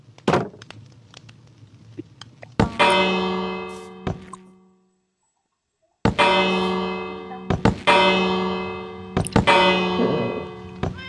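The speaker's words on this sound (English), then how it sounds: "who is ringing the bell at this time?" Video game church bell tolls in a town, several loud resonant strikes with long ringing decays, a pause of silence, then more strikes in an uneven sequence.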